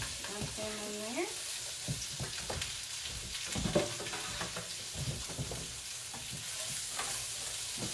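Onions, peppers and mushrooms sizzle in a skillet with butter, a steady close hiss broken by scrapes of a utensil along the pan bottom, with a short squeak early on.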